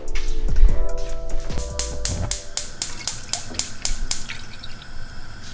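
Milk is poured into a pot while cooking shahi paneer, giving a liquid splash at first followed by a series of regular drips and small clinks, fairly close and with no voices.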